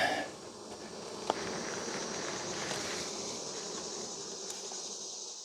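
Honey bees hum around an open hive frame during an early September inspection, a steady low drone that holds on its own throughout, with a brief faint tick near the start.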